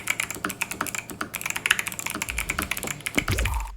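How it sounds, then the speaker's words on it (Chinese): Steady bursts of typing on an ROG Azoth X custom mechanical keyboard with tactile switches, close and clear, with crisp, rapid key clacks and a few deeper bottom-out thuds, heard alone. "那么我们就先来听听看它的打字音吧"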